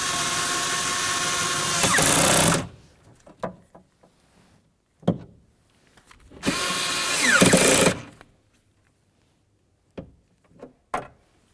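A power tool drives in 10mm window regulator mounting bolts on a 2003-2007 Honda Accord door, with two loud bursts of whirring about two seconds each, separated by clicks and small clanks of handling.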